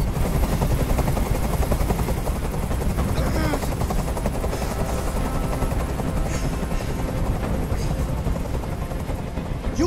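Steady, close rotor chop from a helicopter hovering over a rooftop hostage scene in the Detroit: Become Human video game, continuous for the whole stretch, with faint voices and scene noise mixed in.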